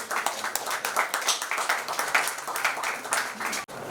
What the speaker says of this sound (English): May you please have a huge round of applause.